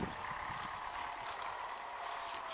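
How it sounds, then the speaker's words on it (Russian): A Romanov ram jumping and stamping, soft hoofbeats and scuffs scattered across a couple of seconds, faint and fairly close against a low steady background. "Вот и мой баран прыгает."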